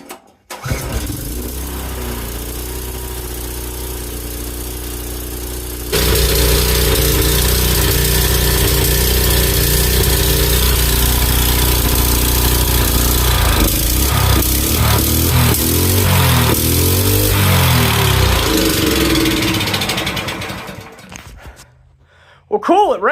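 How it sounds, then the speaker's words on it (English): Predator 301cc small engine with a rusty carb, running roughly at idle, then revving louder and steadier for a long stretch before the throttle drops and it nearly dies, close and loud. "it ran and idled until I started messing with the throttle"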